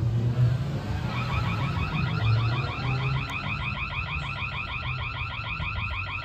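An electronic alarm siren from a wireless outdoor solar security camera wails in rapid repeating warbles, starting after a moment of background noise and continuing steadily.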